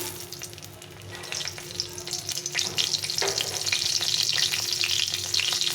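A dried red chili frying in hot oil, a close crackling sizzle that rises and grows busier over several seconds, with faint hiss and no talking.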